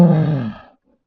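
Polar bear growling in a single deep, rough, drawn-out rumble that is loud and close and fades out after under a second.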